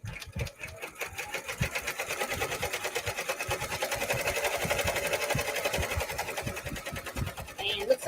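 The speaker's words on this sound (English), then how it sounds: "I'm going to slow down the machine just a little bit. I'm going to go down to 700 stitches per minute." An embroidery machine slowed to 700 stitches per minute stitches a bag strap, its fast, steady mechanical chatter running continuously and close up with rhythmic low thumps throughout.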